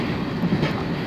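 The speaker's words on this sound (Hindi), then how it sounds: "ट्रेन में सवार हो गए हैं। देखते हैं कि ये ट्रेन हमें कहाँ तक लेके जाती है" Steady rumble of a freight train rolling along rails on a journey toward Karachi, heard from aboard, a continuous close low roar with no talk.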